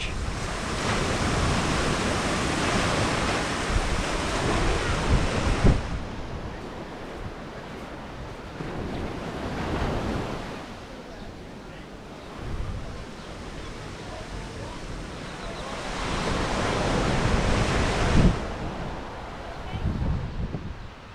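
Ocean waves wash onto Gray's Beach in Waikiki in a steady roar, swelling into louder surges of surf every several seconds, with wind noise buffeting the microphone.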